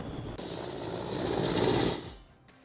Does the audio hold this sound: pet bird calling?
no